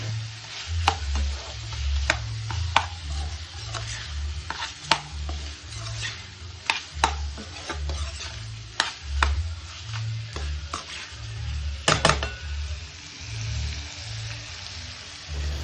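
Chicken fry with chili, garam masala and garlic stirred in a pan over a high flame: a loud, steady sizzle of frying with repeated sharp scrapes and clinks of a spatula against the pan.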